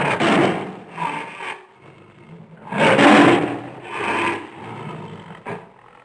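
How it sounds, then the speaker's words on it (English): A tiger roar sound effect: several rough, breathy growling roars in separate bursts, some long and some short, loud and close with brief pauses between them. "Tiger,"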